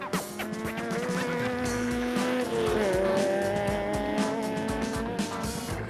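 A Toyota Hilux race truck from Rubicon Racing roars through an off-road rally stage, its engine note rising and falling steadily with tire noise, loud and close for the whole stretch.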